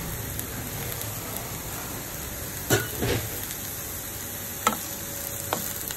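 Vegetables fry in a pan with a soft, steady hiss like light rain, and a few sharp stirring scrapes and taps stand out nearby, with no talking.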